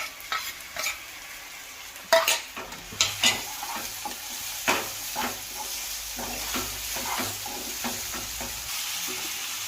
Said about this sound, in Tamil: இப்போ இஞ்சி பூண்டு பேஸ்ட் போட்டுக்கலாம்.